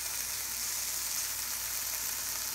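Florida Keys yellowtail snapper fillets sizzle in a hot pan, a soft, even hiss of frying oil that holds steady, fairly quiet and with no voices.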